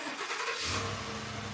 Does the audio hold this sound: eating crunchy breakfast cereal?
no